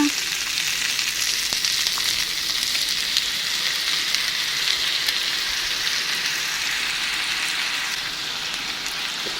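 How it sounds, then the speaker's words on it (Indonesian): Tempeh being stir-fried as sweet soy sauce goes into the pan, producing a dense, rain-like sizzle that holds steady throughout, with only faint stirring touches. "Aduk-aduk. Setelah itu saya menuangkan kecapnya."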